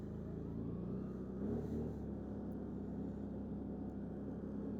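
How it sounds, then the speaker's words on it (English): A Can-Am Outlander Max ATV in all-wheel drive moves off on a short test ride, its engine a steady, fairly quiet rumbling drone heard close with no talk. "Alright, let's go ahead and give her a little test spin."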